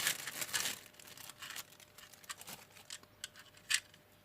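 A plastic parcel bag holding IC555 chips from AliExpress is torn and crinkled open, with sharp rustling bursts early on and scattered crackles and snaps afterward.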